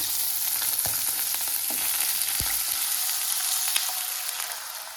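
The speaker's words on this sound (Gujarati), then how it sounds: "હવે હું એડ કરીશ પાણી" Steady loud sizzling fills the clip, with a few brief scraping or clinking touches, as water is added to peas in a hot pan; no talking.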